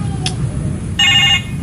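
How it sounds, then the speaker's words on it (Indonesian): A telephone rings briefly in an Indonesian short-film scene from Gunungkidul, a short electronic ringtone burst of stacked tones standing out over steady background noise. "siapa telepon nih?"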